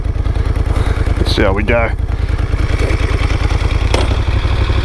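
A 2015 Moto Guzzi Griso motorcycle idles close by with a steady, throbbing low pulse, and someone speaks briefly over the engine.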